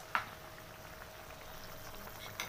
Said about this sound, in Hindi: तो ये देख सकते हैं हमारा पनीर कितने अच्छे से उबल रहा है